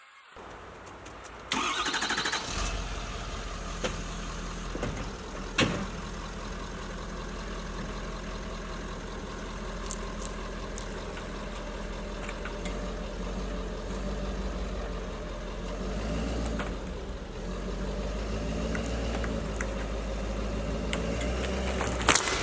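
A truck engine starts with a sharp crank, then settles into a steady, loud idle with a low rumble that runs on alone while straining to pull an old coop forward on a cottage property.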